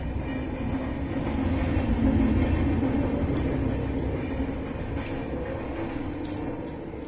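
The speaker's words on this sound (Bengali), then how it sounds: "আমার বেশিরভাগ ভিডিওগুলোর মধ্যেই ট্রেনের আওয়াজ চলে আসবে।" A train rumbles past steadily with a heavy, low, continuous roar that swells slightly mid-way and fades a little, heard from indoors in Maharashtra while kheer is being cooked, with faint clicks over it and no talk.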